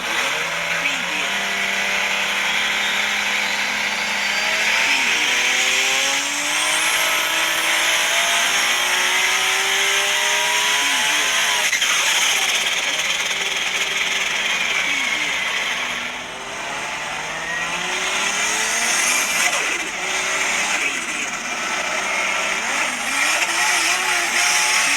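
Car driven hard around the Mount Panorama racing circuit at Bathurst, its engine loud and close and rising and falling through gear changes for the whole stretch, with voices talking over it.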